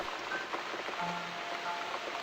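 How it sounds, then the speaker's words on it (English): Steady rain falls in a dark setting in the video game The Cat Lady, a soft continuous patter with a few faint tonal blips over it and no voices. "Looks like we got the rain back."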